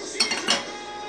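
Metal pot and utensils clink twice, bright and close, while crab pirão is being cooked on the stove, followed by a fading ring.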